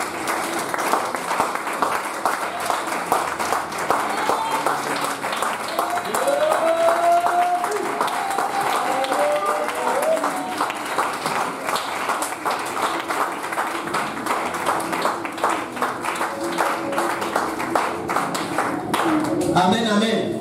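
A church congregation applauds in a dense, continuous patter of clapping that lasts throughout, with voices singing and calling out over it.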